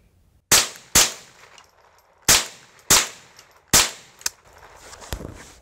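Rifle shots from a Marlin 795 with an extended magazine, about six sharp loud cracks at uneven intervals with short ringing decays, the last ones weaker and irregular.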